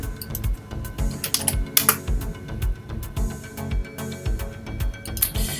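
Computer keyboard typing in a search box, a quick, irregular run of close, crisp key clicks with short pauses between bursts and no talking.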